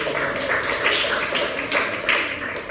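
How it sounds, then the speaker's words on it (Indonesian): A classroom group applauds, with dense, steady clapping that swells in a few rhythmic surges and holds at a fairly loud level throughout. "Kasih tepuk tangan."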